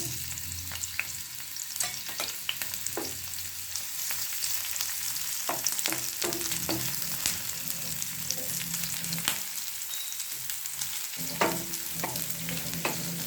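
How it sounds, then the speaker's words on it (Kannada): Chopped onion dropped into hot oil for a prawn curry, sizzling and frying steadily up close while a spoon scrapes and stirs now and then. "ಈಗ ಎಣ್ಣೆ ಬಿಸಿಯಾದಾಗ ಹಚ್ಚಿದ ಒಂದು ಈರುಳ್ಳಿಯನ್ನು ಹಾಕೊಳ್ತಿದ್ದೇನೆ"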